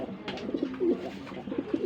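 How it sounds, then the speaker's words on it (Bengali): Bombay pigeons at a breeding farm cooing repeatedly in soft, low, rolling calls, close by and without talk. "বোম্বাই কবুতর আছে দেখেন"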